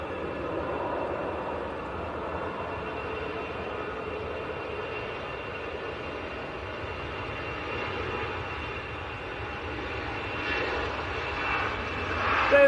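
A Privilege Style Boeing 777 airliner departs Manchester Airport with a strong, continuous jet engine roar. It holds a steady rumble through the whole stretch and rises slightly at the very end, with no one talking.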